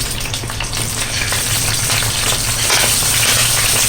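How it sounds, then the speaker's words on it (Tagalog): Chicken wings fry in hot cooking oil in a pan, giving a steady, loud sizzle and crackle that runs throughout with no voices. "Ilalagay na po na natin yung chicken wings."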